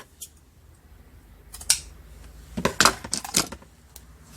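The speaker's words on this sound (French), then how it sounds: "Donc je coupe la dentelle." Scissors snip through lace with a few sharp, close cuts clustered toward the end, preceded by quieter handling clicks and no talk.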